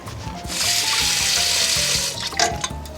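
A kitchen sink tap runs water at a steady, loud rush for a couple of seconds while brined corned beef is rinsed, then it is shut off, leaving a few splashes.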